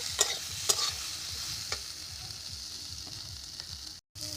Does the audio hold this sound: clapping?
no